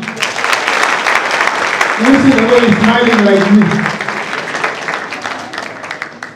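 Audience applause at a university graduation ceremony in Kenya, steady dense clapping throughout with a voice speaking over it near the middle.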